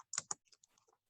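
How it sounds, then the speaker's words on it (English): Short burst of typing on a computer keyboard, a few quick close key clicks with the first two loudest, then lighter taps trailing off in a quiet room. "And we're going to type Waffle House."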